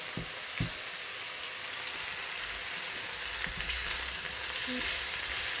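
Okra with onion and green chillies sizzles steadily in hot oil in a wok, a constant crackling hiss with occasional small pops and a faint clink of a utensil, no voices.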